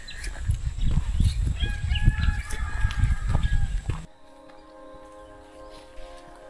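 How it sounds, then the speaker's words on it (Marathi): Roosters crow and cluck loudly and close by on a village morning for about four seconds, after which the yard falls quieter with faint, thinner calls lingering in the background. "तो कोंबड्यांचा आवाज"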